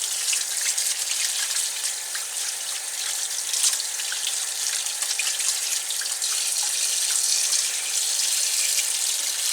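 Tap water running steadily into a sink, splashing over a strainer while Atlantic bonito is cleaned, a constant close hiss with small irregular splashes.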